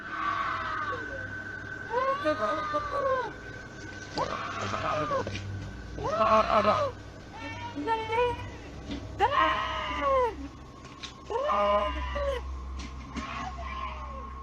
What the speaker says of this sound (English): You can hear a woman scream.